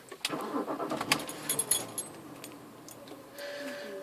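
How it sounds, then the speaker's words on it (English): A BMW Z4 E85/E86 car engine starting, with keys jangling and clicks before the motor catches and settles into a low idle, close up and moderately loud. "so I will start the car again."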